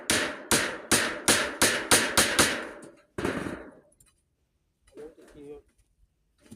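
Eight sharp hammer blows on nails in a steady rhythm while building a roof, then one more strike that rings out, followed by brief faint voices.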